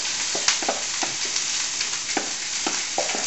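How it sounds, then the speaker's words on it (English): Sausage frying in hot oil in a pan with onion and green pepper nearby, a steady loud sizzle and crackle with scattered pops and stirring scrapes throughout. "That's a good sizzle."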